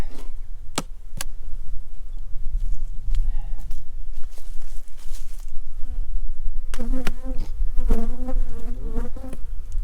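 Loud, dense buzzing of many agitated honey bees fills the clip continuously, with a few louder passes close by and some handling knocks.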